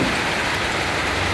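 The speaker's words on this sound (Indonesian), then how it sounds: "itu suara hujan." Rain falls outdoors beside a street as an unbroken, dense hiss. It is fairly loud and even, with no voices.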